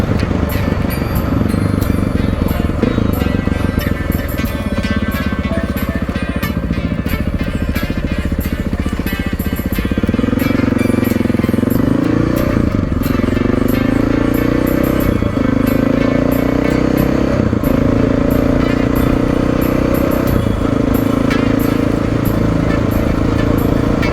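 Motorcycle engine droning steadily while riding, a loud continuous rumble with wind noise and pitch rising and falling as the bike speeds up and eases off, close to the rider, with talk over it.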